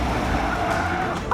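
Tires of a 1973 Porsche Carrera RS 2.7 skidding through a drift on a track, a short loud squeal over the engine's low rumble, heard up close.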